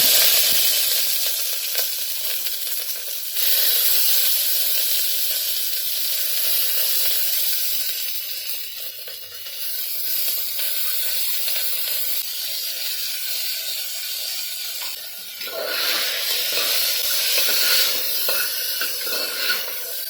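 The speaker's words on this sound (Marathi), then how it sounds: "आपण या सर्व भाज्यांना फ्राय करून घेणार आहोत मी इथे तूप वापरते आहे" Vegetables such as cauliflower and potato fry in ghee inside a pressure cooker, giving a steady, close sizzle with hissing spatter that swells and eases over about twenty seconds, with no talk.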